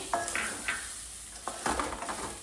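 Chocolate uppittu being stirred in a hot pan: a few soft scrapes and taps of a spoon against the pan over a faint sizzle, close and quiet, with no speech.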